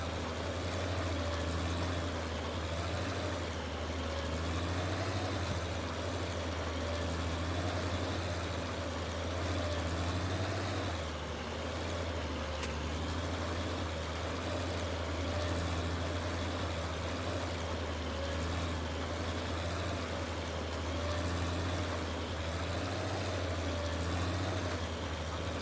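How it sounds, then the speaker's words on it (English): A tractor engine idles in Farming Simulator 19, a steady, low, rumbling drone with a faint mechanical hum, constant and unchanging, fairly quiet with no talk. "I do like the engine sound on the tractor. I think it idles, has a nice idle sound."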